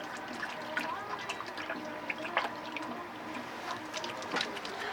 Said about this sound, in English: Put your cleanser back, get some water.